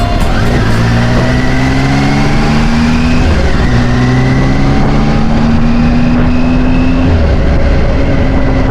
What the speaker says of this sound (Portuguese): Vai dizer que o barulho desses 3 cilindros também não é encantador?